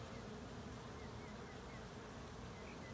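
Steady, dense buzzing of many bees flying at a hive entrance, continuous and close, with no voices.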